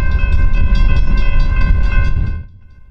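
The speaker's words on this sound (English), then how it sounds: "we shot the train crossing the Milan Diamond and passing the Milan Depot." An Ann Arbor Railroad train passes loudly while crossing the Milan Diamond near the Milan Depot. A steady heavy rumble runs under sustained horn tones, then drops away sharply near the end.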